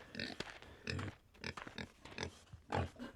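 Pigs grunting in the Wild West Dynasty video game, a series of short, close grunts spaced about every half second, heard alone.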